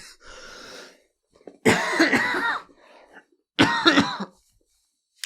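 Two loud, harsh coughs up close, preceded by a softer breathy throat sound, with silence in between.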